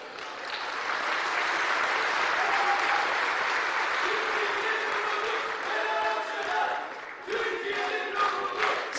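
A large crowd applauds steadily and loudly at a political rally where mayoral candidates are announced, with cheering and shouts rising through the sustained clapping and voices mixed in.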